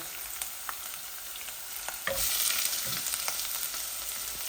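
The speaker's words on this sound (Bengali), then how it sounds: "দেখো আমার তেল গরম হয়ে গেছে ওই দেখো কা লাল হয়ে গেছে এখন আমি পেঁয়াজ দিলাই" Sliced onions hit hot, reddened oil in a pan for a shrimp and long-bean curry, setting off a sharp hiss that swells at once into a steady, close, loud sizzle with a few crackles, with no voices.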